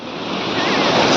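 A big ocean wave surges in, a broad roaring wash of surf that swells louder and fuller across the short moment, with no voices.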